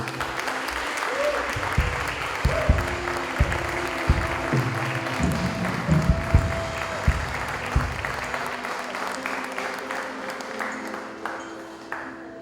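A congregation claps steadily together for several seconds, a dense wash of applause with a voice speaking over it now and then.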